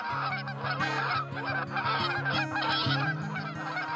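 A flock of geese on a goose farm honking nearby, loud overlapping calls that carry on without pause.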